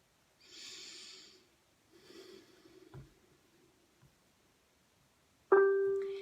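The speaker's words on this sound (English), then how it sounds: "Okay, and just breathe." Two slow, airy breaths come and go during a guided breathing exercise, soft and close, followed by a brief sharper intake near the end.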